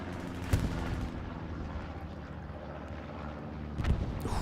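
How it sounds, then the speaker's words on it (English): Satchel charge detonating in Hell Let Loose on the Omaha Beach map, two sharp blasts a few seconds apart over a rumbling battlefield backdrop of distant gunfire. "Satchel goes off in the back and clears that little wave of blueberries"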